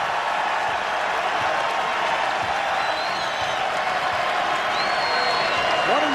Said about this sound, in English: that gets the Wisconsin portion of the crowd going